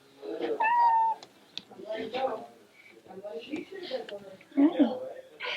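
A domestic cat meows repeatedly at close range in a house in Granite Bay, California, with a person talking softly between and over the calls.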